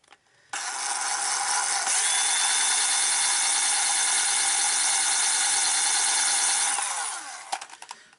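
A power drill bores slowly and steadily into a part without a vise for about six seconds, a loud continuous whine with a grinding edge, then spins down and stops.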